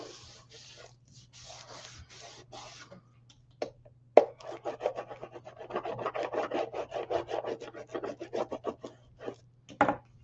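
Paper card layer being burnished firmly with a tool, giving dry scraping and rubbing strokes that come in quick repeated passes, near and fairly quiet, with no talking.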